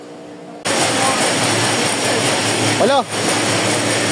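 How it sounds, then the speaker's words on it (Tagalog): An engine starts up and keeps running as a loud, steady broadband roar that kicks in suddenly and holds, with a person speaking briefly over it. "Gumagana na yung makina."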